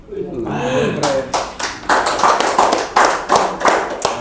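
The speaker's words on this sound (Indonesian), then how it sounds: "Kenapa terlalu lama tepuk tangan ente?" During a hearing with a committee, people clap in a string of crisp, regular strikes close by, with a voice talking at the start and under the clapping.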